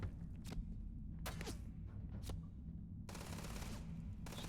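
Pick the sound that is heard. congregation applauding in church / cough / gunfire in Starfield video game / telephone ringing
gunfire in Starfield video game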